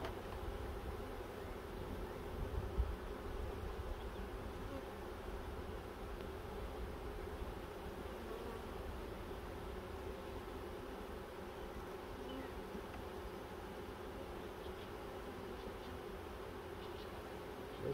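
Honey bees swarming out of a hive, a dense, steady buzzing drone of many insects that holds unbroken and fairly close, with no voices present.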